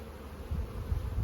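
Honey bees buzz at an open hive that is being smoked during a hive split. The buzzing is a brief, low, droning hum that grows slightly louder, with no voices.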